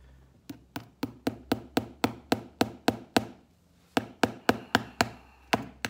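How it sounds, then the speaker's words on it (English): Nails hammered into a shoe sole during handmade shoemaking: a steady run of sharp, close taps, about a dozen strikes, a brief pause, then another quick series of blows. "you get to watch as I continue to hammer nails into this sole."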